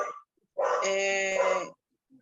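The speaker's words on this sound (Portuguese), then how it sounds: "meu cachorrinho está latindo" A small dog gives a single drawn-out bark or whine, close and fairly loud, standing alone between brief pauses indoors.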